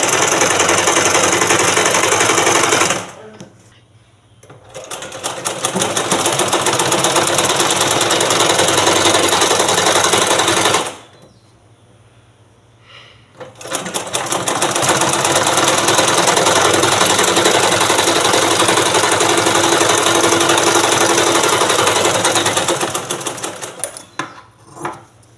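A sewing machine stitches a blouse belt with loud, rapid mechanical rattling. It runs in two long bursts separated by a short quiet pause, then stops near the end. No one speaks.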